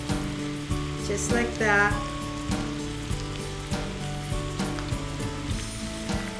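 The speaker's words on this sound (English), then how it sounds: "we'll just let it saute like that" Salt-and-pepper seasoned chicken sizzles steadily in a hot pan, a continuous close frying hiss with occasional stirring clinks, while a person talks briefly over it.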